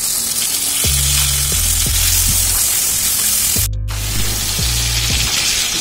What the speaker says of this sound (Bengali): এবার আমি ঝিঙেটা দিয়ে দিচ্ছি।